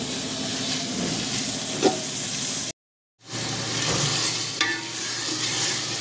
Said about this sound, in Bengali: তো এখন পেঁয়াজ ভাজা চলছে